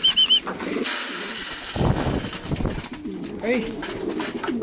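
Racing pigeons home to their loft from a training toss and coo softly nearby, with low rolling calls among wing flutters, while someone speaks briefly.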